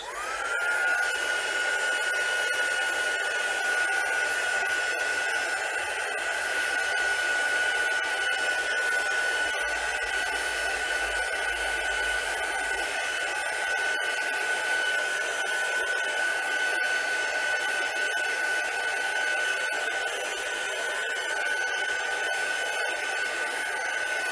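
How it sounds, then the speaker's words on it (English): A heat tool blowing to dry craft paper, a loud steady whirring blast with a constant high whine, running close and uninterrupted. "I got my heat tool and just dried that off"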